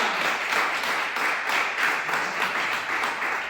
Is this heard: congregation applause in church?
yes